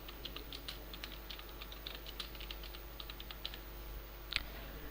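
Rapid typing on a computer keyboard while filling in an online railway recruitment application form, a busy run of close, crisp key clicks with a louder stroke near the end.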